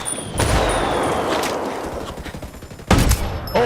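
Gunfire in the video game Ghost Recon Wildlands: bursts of rifle shots and loud blasts ring out, with a heavy impact near the start and another sharp burst toward the end, no voices.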